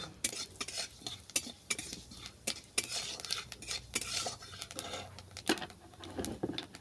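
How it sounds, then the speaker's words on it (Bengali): Black cumin (nigella seeds) fries in hot oil while a utensil scrapes and clinks against the pan, giving quiet, irregular taps over a faint sizzle. "এই তেলের মধ্যেই দিয়ে দিলাম কালো জিরে।"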